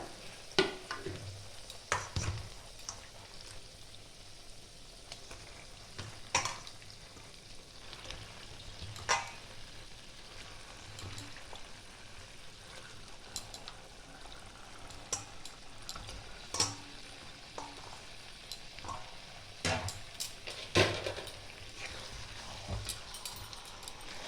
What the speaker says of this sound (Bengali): মশলাটা কষানো হয়ে গেছে তেলটাও ছেড়ে গেছে এবার দিয়ে দেবো চিকেনটা